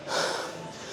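A single heavy, close breath, gasped in and pushed out while someone recovers after a whole-body warm-up workout.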